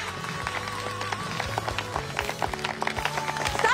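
Passengers on a plane clapping, a scattered patter of hand claps mixed with murmuring and movement in the cabin, moderately close and rising slightly toward the end.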